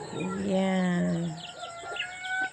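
Chickens and chicks at feeding time: a near clucking call with a clear harmonic tone in the first second and a half, then softer scattered cheeps and clucks from the flock.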